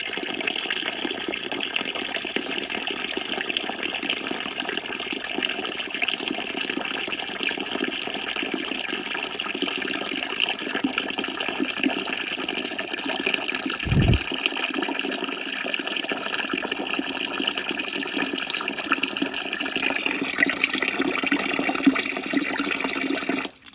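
Water pours steadily into a bucket of chicken feed for fermenting, a continuous close gushing fill that runs on without pause, with a brief dull knock partway through and no talk.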